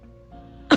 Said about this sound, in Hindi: बाबा अचानक खांसी का गोला फोड़ते